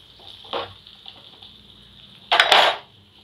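Curry leaves are stirred into a tomato-based sundakkai kulambu simmering over a medium flame, heard as two short scraping bursts of a spoon against the pan over a faint background hum.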